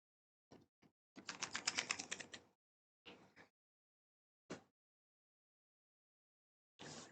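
Several short bursts of typing on a computer keyboard, fairly quiet and close, with a longer run of rapid keystrokes and brief pauses between groups, no voices.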